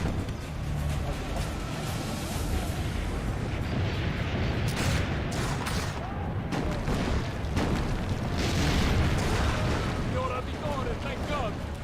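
Cannons fire in the video game Assassin's Creed Brotherhood, with dense booming blasts and rumbling battle noise throughout, loud and continuous, while voices talk over it.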